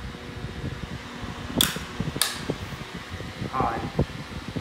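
A vintage 8-inch desk fan from the 1970s or 1980s runs with a steady whooshing hum, fairly loud and close, while a person talks over it.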